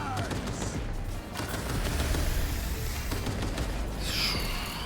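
Gunfire crackles in a firefight from the video game Cyberpunk 2077, with a continuous, fairly dense clatter of shots held up steadily across the whole stretch over a busy game soundtrack.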